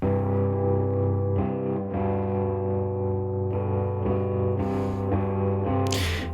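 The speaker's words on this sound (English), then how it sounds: "We're just inserting a reverb on there." Distorted electric guitar chords ring out one after another with a spacious, reverberant tail, ending in a bright scrape of pick noise.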